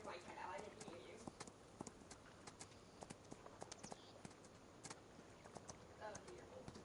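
A horse's hooves clip-clop in a steady walking rhythm in the Farming Simulator 25 video game, a run of crisp, evenly spaced hoofbeats with a voice talking quietly underneath.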